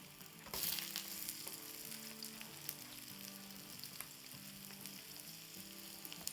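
A vegetable pancake fries in a pan after being flipped, a soft, continuous close sizzle with a brief louder burst near the start and a low steady hum underneath.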